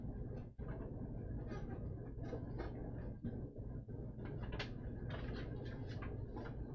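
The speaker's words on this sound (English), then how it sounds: "The printer is fighting us." A printer mechanism straining and struggling, with continuous mechanical whirring plus irregular ratcheting clicks and creaks, close and steady, and no talking.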